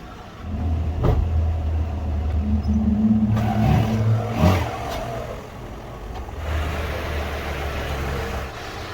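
Rover K-series car engine idling and revving as it drives up onto ramps, low throbbing rumble with rising rev surges and a few clunks, fairly close, with no talk.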